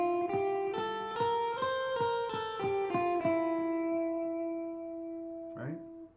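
A guitar plays a C hybrid pentatonic scale as about nine clear plucked notes in a steady run, ending on a longer ringing note before a brief scrape of noise near the end.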